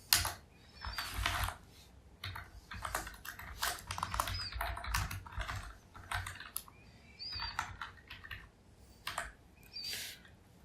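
Rapid, uneven keystrokes on a computer keyboard as a program is written, coming in close bursts with short pauses between them, fairly quiet with no talking.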